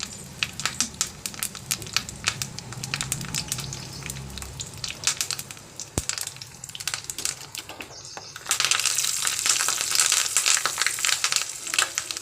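Garlic, mustard seeds, cumin and chillies fry in hot oil for a Telangana-style kandi kattu charu, producing dense, close crackling and spitting pops that get louder and brighter toward the end.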